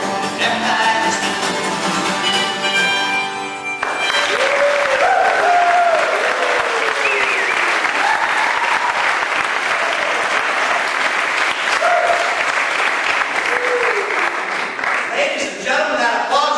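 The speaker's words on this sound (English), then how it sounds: "that applause just woke up the President of the United States, Warren G. Harding" Audience applause in Skagway, Alaska, with a dense, sustained wash of clapping that starts after a brief sung or played passage and carries on strongly, loud and close, with voices and cheers mixed through the crowd.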